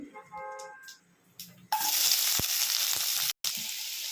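Onions hit hot tempering oil and break into a loud, continuous sizzle that holds steady after a short stretch of quiet talk, with one brief drop-out.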